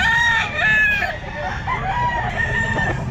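Chickens at a pet market cluck and crow loudly and close by, with overlapping calls and a long crow over a busy crowd murmur.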